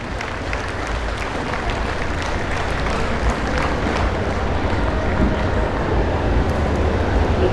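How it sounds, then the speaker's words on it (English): Audience at a 4-H dairy heifer show giving exhibitors a round of applause: steady, sustained clapping from a large crowd in an arena, with no break. "Give these exhibitors a round of applause."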